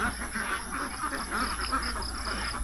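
Ducks on a duck farm in Toril, Davao City, quack in a steady, busy chorus over a constant background hum, with no clear talking.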